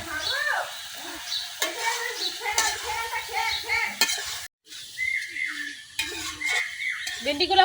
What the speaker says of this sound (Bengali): এখন আমি ভেন্ডিগুলো কিছুক্ষণ কষাই নেব।